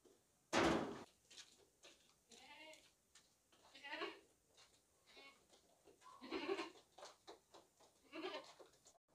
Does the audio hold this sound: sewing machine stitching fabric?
no